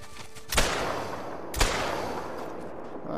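Two loud muzzle-loader gunshots boom about a second apart during a crocodile hunt, each a sharp blast followed by a rolling decay.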